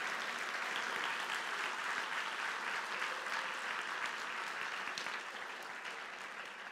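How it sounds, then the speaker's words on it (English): At an event honoring an advisory committee, a crowd gives a big, sustained round of applause, a dense steady patter of many clapping hands that tapers only slightly toward the end, with no voices on top. "Can we all give a really big applause,"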